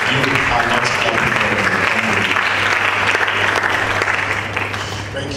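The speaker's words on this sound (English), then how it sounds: "Please put your hands together for Mr. Dori in the back" Students clapping at a World Malaria Day quiz competition, a sustained loud wash of applause over a steady low hum, fading a little toward the close.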